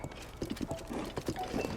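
Hooves of the giant Horse Link clip-clopping in Zelda: Tears of the Kingdom, a quick uneven run of close, moderately loud hoofbeats.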